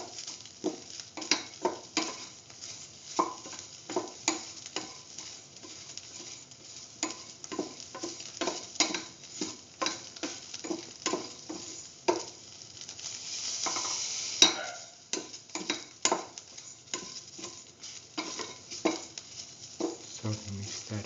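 Soy chunks and vegetables sauté in a pan with a soft, steady sizzle. A spoon scrapes and taps against the pan in an irregular rhythm all the way through, close and fairly quiet, with a brief louder hiss near the end.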